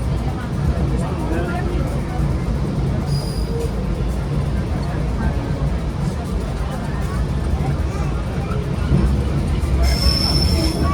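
Commuter train to Bojonegoro pulling out of Surabaya Pasar Turi station, a steady loud rumble of rolling wheels with brief high squeals, heard from nearby with no talk over it.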